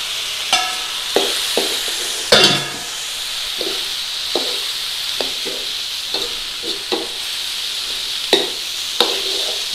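Chopped tomatoes frying in a pan for keema matar give a steady hiss and sizzle, broken by repeated scraping knocks of a spoon stirring at irregular intervals.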